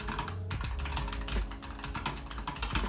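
Typing on a Keychron K1 Pro low-profile mechanical keyboard: rapid, clicky keystrokes in an irregular stream, close and fairly quiet, with no talk.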